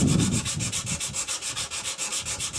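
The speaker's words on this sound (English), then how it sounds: "I'll start by wet sanding the piece with the 180 grit sandpaper and some soapy water." A piece of aluminum motorcycle part is wet sanded by hand with 180 grit sandpaper and soapy water, giving a close, rhythmic swishing scrape of quick back-and-forth strokes.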